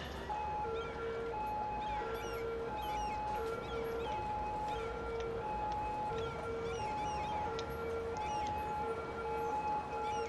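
An ambulance siren at a burning building in the Cities: Skylines video game wails in a steady repeating two-tone pattern, moderately loud over a soft ambient bed of the city.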